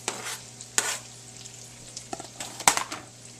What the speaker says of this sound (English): I'm going to add in these ham into the onions.